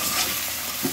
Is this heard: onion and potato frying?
yes